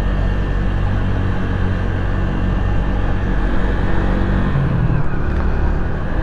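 Steady engine drone of a 2016 Orcal Astor 125cc motorcycle cruising in town, a constant mid-level hum with road and wind noise, no talking.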